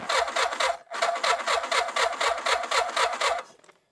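A cold Suzuki Hayabusa motorcycle engine, chilled by -27 degree Montana camping weather, cranks over and over in a steady rapid rhythm, loud and close, pausing once briefly before cranking again, then cutting off without catching.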